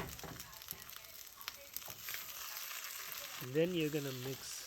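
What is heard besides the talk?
eggs frying and being scrambled in pan for fried rice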